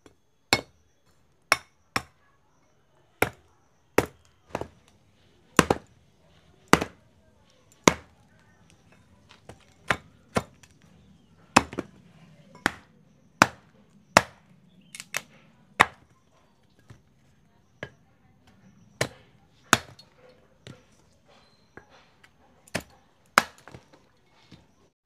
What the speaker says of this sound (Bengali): বেলটাকে আগে কাঠারি দিয়ে আমি কেটে নেব।